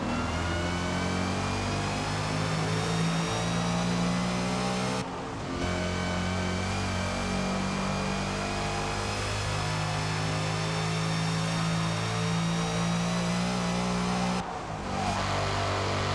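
Supercharged Saleen S7 Black Label engine in Forza Motorsport, holding a loud sustained high rev with rising tone, broken by two brief gear-shift dips, with no talk over it.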